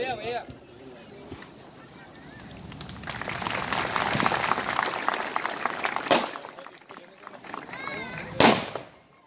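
Wedding guests at a Shiv-style wedding in Ahmadpur clap after the bride and groom exchange garlands, applause building to a broad, sustained roar midway, with voices and a speaker heard around it.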